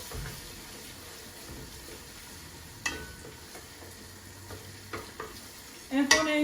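Whole spices fry in oil with onion and are stirred: bay leaf, cinnamon, cloves, cardamom, nutmeg and mace. A faint, steady sizzle carries occasional utensil scrapes, and a louder clatter comes at the end.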